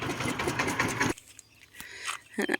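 A Thai farm truck's engine chugs at a close idle for about a second, then is switched off, leaving faint ticks and quiet rustles before a brief clatter at the end.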